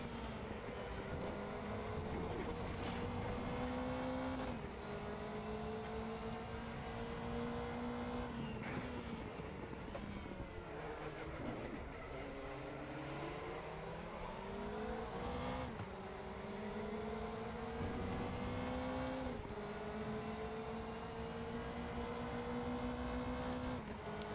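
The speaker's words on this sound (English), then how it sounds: "You can hear the wastegates going off on the Porsches especially." Group C race cars, including Porsches, lap Hockenheim in the RaceRoom racing game, engines droning and rising and falling through gear changes, with wastegate chatter and tyre noise over continuous, steady engine roar.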